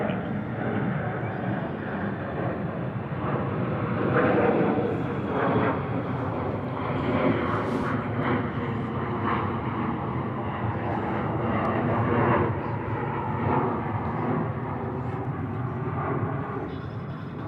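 An airliner takes off from runway 13 right at JFK airport, a broad, steady jet roar that swells and eases slightly over time, with faint radio talk underneath.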